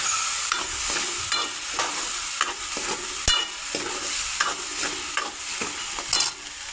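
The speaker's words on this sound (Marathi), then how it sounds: "आपण खोबऱ्याचं आणि छोलेचं वाटण करून आणलेले आता त्याच्यामध्ये ते घालून घ्यायचं" Coconut and chickpea paste stirred into masala frying in a pan, a steady loud sizzle broken by repeated scraping strokes of a spoon, with no voices.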